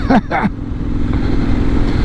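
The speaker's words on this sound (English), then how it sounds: "The engine is willing, tractable, linear and predictable in terms of its power delivery." A Benelli Leoncino 800 Trail motorcycle engine drones steadily while riding, a loud continuous rumble with wind, after a brief burst of voice at the start.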